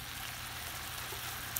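Soft, steady sizzling of meat browning in a frying pan over medium heat, even and continuous, with no voices.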